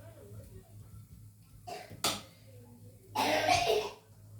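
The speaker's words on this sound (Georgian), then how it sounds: "ხველება." A child coughing a few times close by, short separate bursts with quiet pauses between them, the last cough longer and harsher, in a quiet room.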